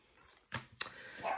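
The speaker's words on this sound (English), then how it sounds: "I don't know what she's barking at." A dog indoors gives a few short, fairly quiet barks and yips in quick succession, close by with no talk over them.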